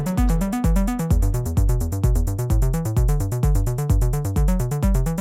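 Minitaur bass synth played dry with the reverb switched off: a steady, looping pattern of punchy, sharply attacked bass notes, loud and unaccompanied.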